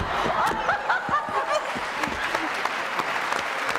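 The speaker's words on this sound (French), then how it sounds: "Applaudissements." Studio audience applause on a French TV variety show, a dense steady patter of many hands with some laughter and voices mixed in throughout.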